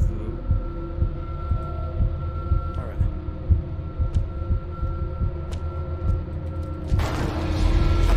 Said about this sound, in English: My heartbeat's already beating like crazy.